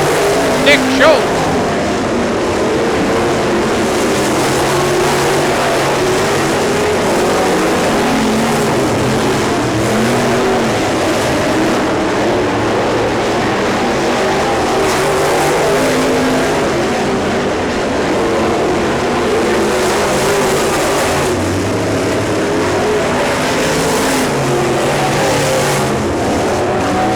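BMOD race cars roar around a dirt oval during a 10-lap heat, a steady dense engine drone with passing swells, continuous and loud, with a track announcer talking faintly underneath.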